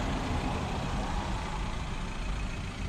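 An MG4 taxi sits in a traffic jam on a city street, a steady low rumble of surrounding heavy traffic and engines filling the space continuously, with no voices.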